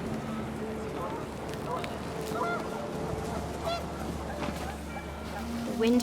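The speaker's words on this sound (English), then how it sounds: "The wind picked up, and panicked geese appeared and quickly went" Panicked geese honk in the video game What Remains of Edith Finch as the wind picks up, a flurry of overlapping honks and calls over a low wind rumble, with game audio continuing throughout.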